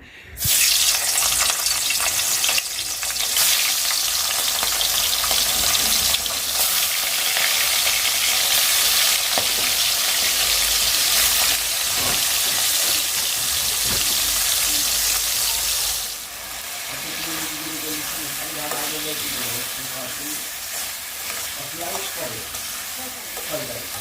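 Taro leaves (kochu shak) sizzle and fry in a pan, a loud steady hiss with occasional stirring scrapes, easing slightly in the latter part as faint voices murmur underneath.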